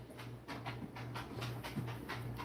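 A dog pants in steady quick bursts close by, sniffing and breathing audibly in a regular rhythm with a soft whimper-like tone, with no talk.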